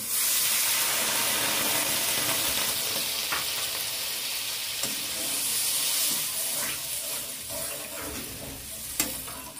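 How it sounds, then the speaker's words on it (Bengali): Water hits sizzling fried masala with a loud, broad hiss of steam that gradually settles into a softer bubbling sizzle, punctuated by a few faint clinks. "এখন দিয়ে দিচ্ছি জল।"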